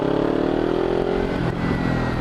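Steady, loud engine drone from a 2013 Kawasaki Ninja 300 Special Edition motorcycle being ridden, a continuous close hum with no speech over it.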